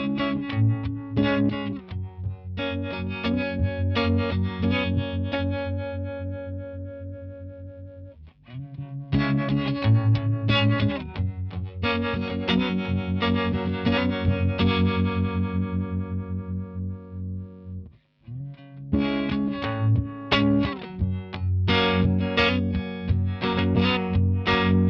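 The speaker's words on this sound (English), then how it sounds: "that gives this kind of a phasey effect that is somewhere between a tremolo and vibrato" An electric guitar plays clean through a Fender Blonde Showman amp with its vibrato effect on, producing chords and melodic lines with a wavering, phasey shimmer that continues almost throughout.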